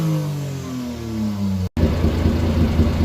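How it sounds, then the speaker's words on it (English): Turbocharged E07Z engine in a Honda Beat free revving: a rising, climbing engine note snaps off briefly, then a dense, loud, steady rumble follows, close and alone. "Look how fast it builds boost just from revving."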